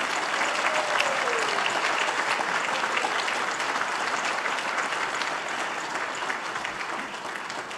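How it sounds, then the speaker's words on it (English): A crowd at the Pro Football Hall of Fame Award of Excellence show gives a loud, sustained round of applause for the honorees, dense clapping holding steady before tapering slightly toward the end. "Let's give a round of applause, okay, for all our recipients in attendance today."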